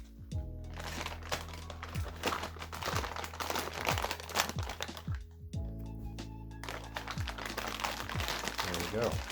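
A knife slicing open the cardboard box of a DaVinci Mini W+ 3D printer, with close crackling, tearing cuts and crinkling packaging. A voice talks over the cutting.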